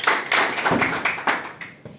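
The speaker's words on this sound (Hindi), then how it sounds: "हम सब अपने माता पिता के लिए एक बार जोरदार ताली।" An audience claps loudly in honour of parents at a gathering, a brief dense burst of many hands close by that thins out toward the end.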